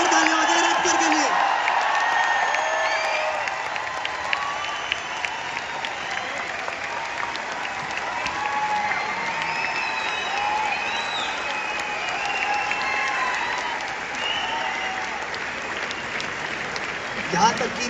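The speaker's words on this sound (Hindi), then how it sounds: "एक बार जोरदार तालियां हो जाए" An audience at an indoor business success event breaks into sustained loud applause that lasts throughout, with scattered cheers and whoops, and some voices are audible in the crowd.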